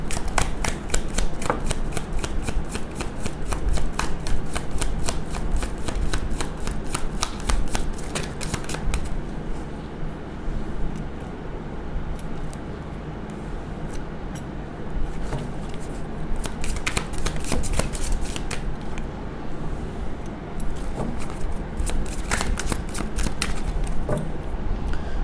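A deck of tarot cards being shuffled close up, with rapid riffling bursts through the first nine seconds, a pause of quieter handling, then further shuffling runs in the middle and near the end, heard alone without talk.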